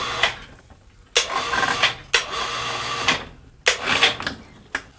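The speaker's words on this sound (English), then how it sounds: "I've got this handy-dandy Harbor Freight lift. We're going to lift this up" A Harbor Freight lift raises a Toro Recycler push mower: a series of loud, harsh mechanical bursts about a second apart, each a rattling, grinding stretch with short breaks in between, close up and with no talking.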